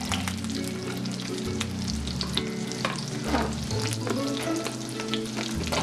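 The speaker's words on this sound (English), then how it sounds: "now we have our butter melted. We're going to go ahead and add in some red onion, just a little bit." Red onion sizzles and crackles steadily in melted butter in a pan, a continuous close frying hiss with occasional stirring, with no talking over it.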